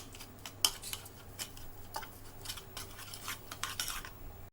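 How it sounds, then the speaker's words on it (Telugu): A spoon scrapes and clinks in a bowl while ginger-garlic paste and food colour are stirred together, making close, irregular metallic taps and wet scraping with no talking. "ఇవన్నీ బాగా మిక్స్ చేసేసుకుందాం."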